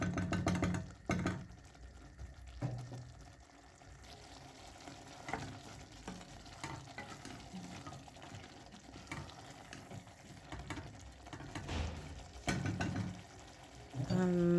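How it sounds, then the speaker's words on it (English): Thick tomatoes cooking in a pot while being stirred, with quiet bubbling and sizzling broken by several louder clanks and scrapes of the spoon against the pot. "you're just going to stir that up until you've achieved the thickness that you want on your tomatoes"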